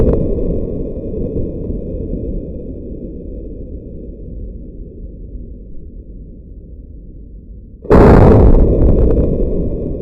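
A single loud, sharp shot from a Colt 1905 pistol bursts out abruptly near the end, following a long stretch of low, steady rumble.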